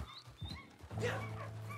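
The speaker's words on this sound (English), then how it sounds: "Oh, it's a dog." A dog in the Red Dead Online game gives a short whimpering yip, a few soft whines rising into a sustained tone, faint and close.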